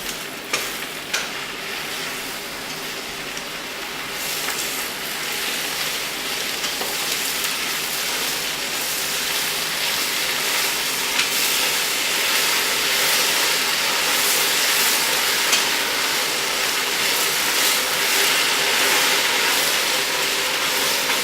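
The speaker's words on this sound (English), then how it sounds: "That is some aggressive sizzling." Swiss chard sizzles aggressively in a pan, a dense, steady crackling hiss that carries on without a break from start to finish, loud and close.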